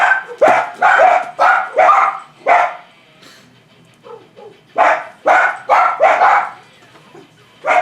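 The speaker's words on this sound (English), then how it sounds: "My dogs managed to ruin a video every single time." Dogs barking indoors in loud, close repeated bursts of several barks each, with a short quieter pause and a few softer yips in the middle before the barking resumes.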